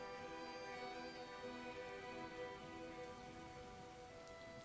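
Steady rain falls on a surface, a dense, even hiss of drops that fills the whole stretch with no pauses and no voices.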